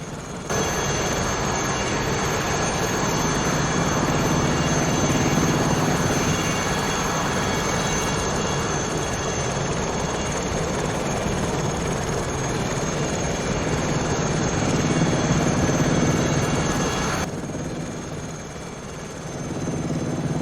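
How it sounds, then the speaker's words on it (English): Steady, loud rotor and turbine drone of an Aérospatiale SA 315B Lama helicopter in Microsoft Flight Simulator 2020, holding constant through most of the stretch before easing off slightly near the end. "Very versatile helicopter."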